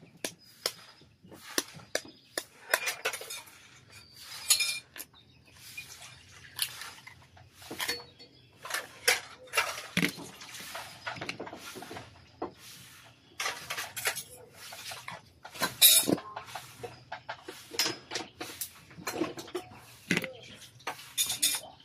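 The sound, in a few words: cooking eggs and corned beef in a pan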